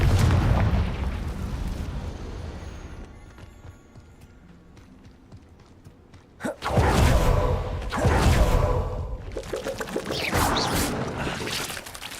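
Confringo fire spells blasting in the Hogwarts Legacy video game, with a lull and then two loud broadband bursts around the middle, followed by sustained rumbling impacts and crackle.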